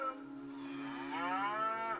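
On a ranch in Parkfield, California, a single cow lets out a long, rising moo that swells and holds for about two seconds, close and clear with no talking.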